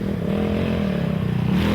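Yamaha ATVs race in an ATV C division at a 2013 Action Sports GP round, giving a loud, continuous engine drone. The low, buzzing roar holds steady throughout, close and unbroken.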